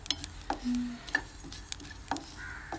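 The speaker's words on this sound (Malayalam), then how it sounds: "കടുക് പൊട്ടുണ്ടല്ലോ, ചെറിയ ചെറിയ സൗണ്ട് കേൾക്കണണ്ട" Mustard seeds pop in hot oil while a chemmeen ghee roast is being cooked: a few faint, sparse, sharp little cracks spaced apart over a quiet background.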